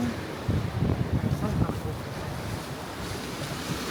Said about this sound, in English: Waves are rough here.